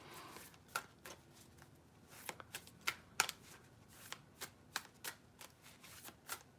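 Crisp, rapid riffling of a deck of cards in several bursts, close by and fairly quiet, with sharp snaps between the shuffles.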